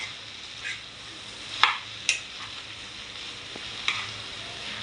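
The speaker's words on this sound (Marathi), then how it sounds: "व्यवस्थित परतून घेऊया आपण गॅस लो करून परतून घ्यायचे कांद्यामध्ये भेंडे भेंडी" Okra and onions sautéing in a pan over a low gas flame, a soft steady sizzle with a few brief louder crackles and stirring clicks.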